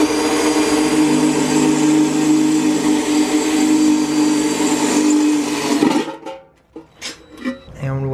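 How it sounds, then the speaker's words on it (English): A power tool grinds steadily into the bottom of a metal battery box for a ramp truck, a loud sustained whine that cuts off abruptly, followed by a few short clanks and scrapes. "Now I need to put a hole in the bottom of this battery box"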